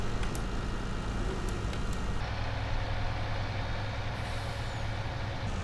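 Lorry air brake in Farming Simulator 19 on the Geiselsberg map: a loud hiss of released air cuts in over a steady diesel truck engine rumble, with a few sharp clicks beforehand and no talking.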